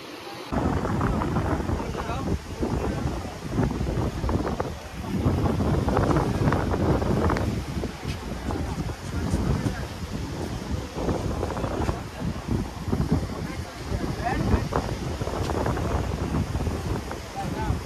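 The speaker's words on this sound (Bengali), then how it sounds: "কি স্পিডে হাওয়া চলছে বলো তো?" Strong wind buffets the microphone in gusty bursts over the wash of rough sea waves at Digha Mohona, loud and continuous throughout.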